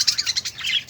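Budgerigars kept in a home aviary chirp in quick bright bursts, several shrill tweets overlapping closely and loudly over about a second, with no talking.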